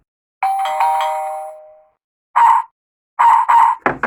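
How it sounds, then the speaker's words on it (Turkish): A bright electronic doorbell chime on a toy house plays a short melody, one long ringing tone followed by several quicker chimes, close and loud. "Bu arada bir tane zil var. Ona basınca da ayrıyetten ışıklar yanıyor."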